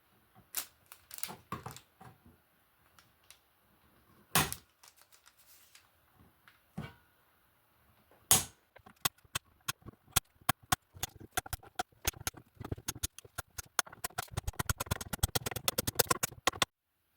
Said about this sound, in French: on vient couper les frettes ras de chaque côté du manche